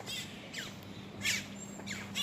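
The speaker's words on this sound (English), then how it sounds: "Those are blackbirds." Blackbirds call outdoors in short, sharp chirps and squawks, several brief calls scattered over low background noise.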